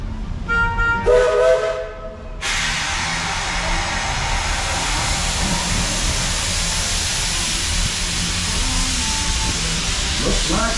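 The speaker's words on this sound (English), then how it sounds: "this is your last call from the Walt Disney World Railroad, now departing for a grand circle tour around the Magic Kingdom" Steam locomotive of the Walt Disney World Railroad at the Magic Kingdom pulling out, a steady loud broadband hiss of steam and rumble following a brief whistle-like tonal burst at the start.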